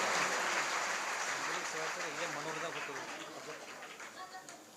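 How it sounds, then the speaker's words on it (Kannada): Applause from a crowd gathered for a religious discourse, a dense steady clatter of many hands clapping that stays fairly faint and slowly fades. "ಜೋರಾದ ಚಪ್ಪಾಳೆಯೊಂದಿಗೆ"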